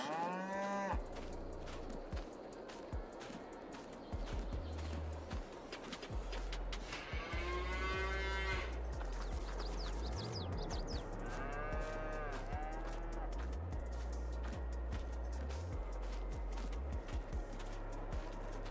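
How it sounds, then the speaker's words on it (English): A large herd of about 600 cattle lowing and mooing continuously on a farm, many overlapping calls near and far, with birds cooing faintly in the background. "it's 600 cows"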